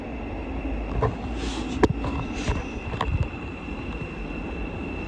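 A Great Northern Class 717 train arrives at a North London station with a steady low rumble and wind noise, plus a few faint metallic clanks and squeals as it draws in.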